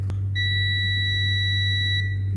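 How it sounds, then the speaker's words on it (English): A multimeter's steady high-pitched continuity beep sounds for about two seconds over a low electrical hum, testing a fuse inside a heating fan. "Yes, we have beep, we have a connection."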